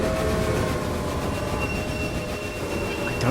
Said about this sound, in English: Why are these trains gunking up just here?